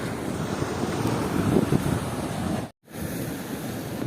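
Mediterranean Sea waves wash onto a beach in a steady broadband rush, with wind buffeting the microphone; the sound cuts out briefly near the end, then resumes.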